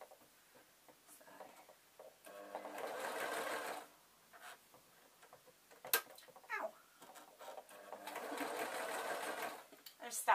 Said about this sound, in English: then I can start sewing.